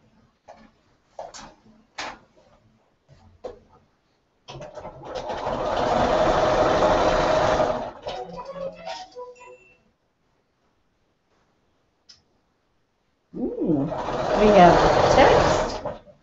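A sewing machine stitches the seams of a chartreuse quilt border in two steady runs, a longer one and then a later burst, with quiet gaps and a few small clicks between them.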